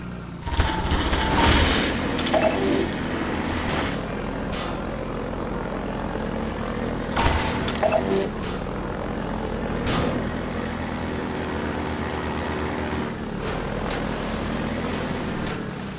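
Helicopter attack in Half-Life 2, with a steady rotor and engine drone throughout, punctuated by loud bursts of gunfire and explosions near the start and around the middle, no talking.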